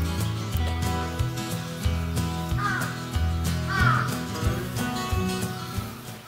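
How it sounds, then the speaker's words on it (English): A large crow at Fushimi Inari Taisha shrine in Kyoto caws repeatedly, harsh calls coming in a steady series of about a dozen, close and clear with no talking. "I don't know what to say, but that crow is like 3 feet tall."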